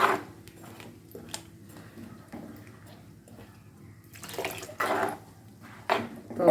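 Water splashes into simmering fish curry gravy in a cooking pot, coming in a few short pouring bursts over a quiet kitchen background.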